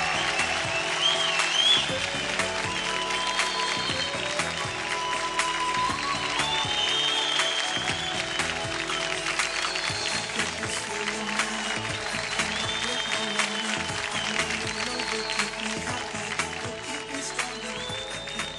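Studio audience applause for Ruturaj on a televised kids' dance show, sustained clapping and crowd noise lasting the whole stretch, with music or other sound mixed underneath at a fairly low overall level.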